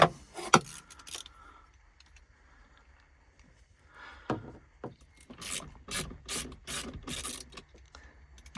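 A hand ratchet works loose 10mm bolts on a car's battery area: quiet bursts of quick metallic clicking separated by pauses and faint handling noises.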